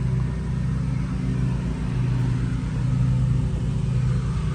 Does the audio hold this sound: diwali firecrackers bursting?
no